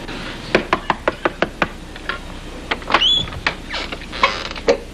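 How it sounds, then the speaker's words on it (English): Knuckles rap on an apartment door in a quick series of sharp, close knocks, followed by a few scattered thumps and a brief creak. "So I knocked on the door."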